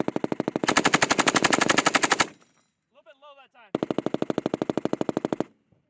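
Bursts of M240B and M249 machine gun fire on a military qualification range, loud rapid automatic shots in two long strings separated by a short pause with a faint clink and a brief voice.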